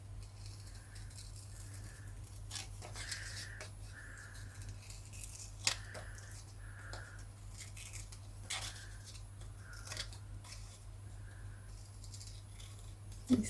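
Stiff scissors snip through a delicate paper stencil, giving short scattered crisp cuts over a steady low hum, close and fairly quiet.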